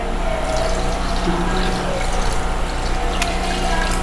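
Water running steadily into a cooking pot of taro leaves in a home kitchen, a continuous close pouring rush with a faint low hum beneath and no talk.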